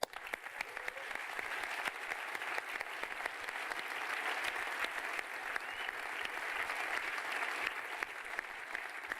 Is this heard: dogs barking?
no